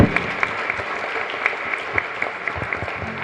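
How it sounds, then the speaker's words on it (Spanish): Church congregation at the end of Mass in a chapel in Lambaré, applauding together in a steady, full roar of clapping with a few sharper claps standing out near the front. "Un fuerte aplauso para todos nosotros."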